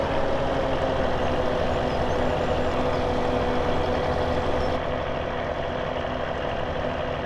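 Simulated New Holland 116 Hydroswing haybine running in Farming Simulator 17, a steady loud mechanical drone with a constant engine hum and a faint tonal whine, continuous throughout with no voices.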